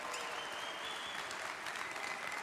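A crowd at a cooking show event applauds the cooks with a dense, continuous roar of clapping, faint and distant, a high whistle-like tone running through it.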